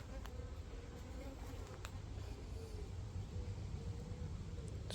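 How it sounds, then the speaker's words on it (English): Wasp buzzing around outdoors in a garden, a faint continuous drone over low background rumble, with occasional brief ticks and no clear speech. "Just another wasp again."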